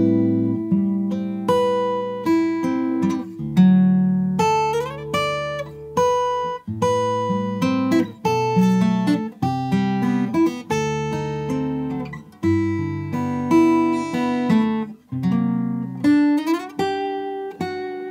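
A guitar in drop D tuning picks the intro of a song, with plucked notes and ringing chords in a relaxed, uneven rhythm, clear and alone.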